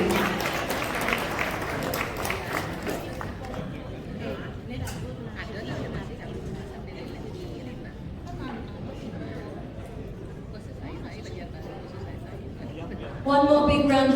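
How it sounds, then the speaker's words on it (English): Audience applause at an evening awards ceremony at a Hindu community Raksha Bandhan event in Adelaide, a steady wash of clapping with crowd chatter throughout, ending in a louder burst as music or a voice cuts in. "One more big round of applause."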